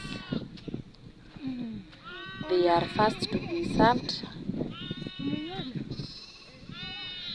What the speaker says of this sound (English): every sheep in our home has a lamb